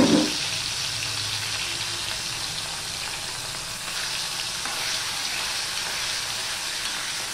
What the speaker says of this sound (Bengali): এবার নুন হলুদ দিয়ে রাখা মাছগুলো আমি ভেজে নেব